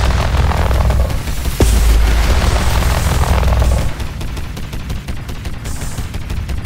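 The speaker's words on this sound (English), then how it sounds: "Fire the lasers!" Rapid, dense bursts of laser fire pound an enemy ship in the pre-alpha space game Limit Theory, a loud continuous barrage with a heavy thump early on and then a lighter stream of shots.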